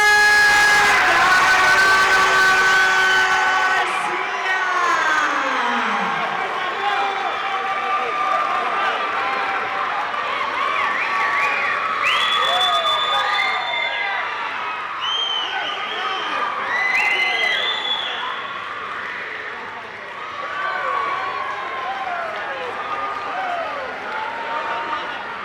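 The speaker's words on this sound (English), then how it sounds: "Let's get a larger applause, ladies and gentlemen, for Christopher." A large crowd cheers, whistles and applauds for the winner of a 135 lb Muay Thai title match at an event, dense sustained noise with many voices and whistles, loud and close throughout.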